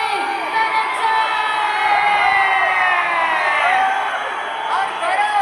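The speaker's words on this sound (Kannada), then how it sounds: "ಹಂಗಾರೆ ಒಂದ್ಸರಿ ಬರ್ಬೋಣ ವಿಸಿಲ್. ವೆಲ್ಕಮ್ ಮಾಡೋಣ ನಮ್ಮ ಬಡವ ರಾಸ್ಕಲ್ ಗಾನಿ ಧನಂಜಯ್." A festival crowd at the Gaganachukki waterfall festival cheers and whistles in welcome, a loud sustained roar with piercing whistles rising and falling throughout, while a voice speaks over it.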